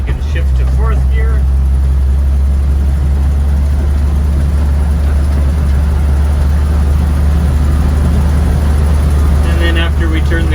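The engine of a 1948 REO Speed Wagon drones loudly and steadily at low pitch while being shifted into fourth gear. Someone talks over it near the start and again at the end.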